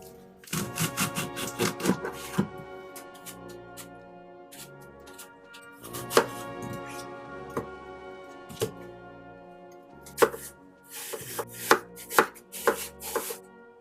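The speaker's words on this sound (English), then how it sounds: "Now I'm going to core, peel, and slice up my apples." Apples being cored, peeled and sliced, with bursts of rapid knife cuts against a cutting board separated by quieter pauses, close and crisp.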